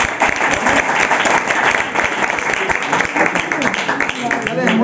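An audience at a Christian church seminar applauds loudly, dense continuous clapping lasting several seconds, with a few voices mixed into the noise.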